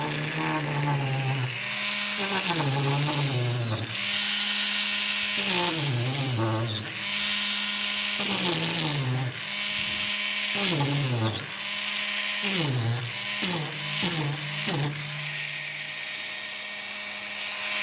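A high-pitched power tool cuts wood grain into a vintage sign being restored. Its whine rises and falls in repeated bursts over about eighteen seconds, running loud and steady at close range with short pauses between passes.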